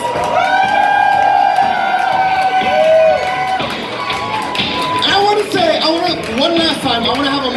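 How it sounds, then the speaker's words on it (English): Audience at a leather contest claps and cheers for the contestants in a loud, sustained burst, with whoops and shouts rising above the steady applause throughout. "one last round of applause for all of your contestants"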